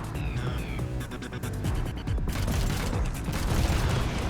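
In the building game Trailmakers, a mechanism raises four explosive cannons from the back of a vehicle. It sounds like a steady, dense mechanical whirring and clattering with booming, gunfire-like bursts that continue loudly for the whole stretch.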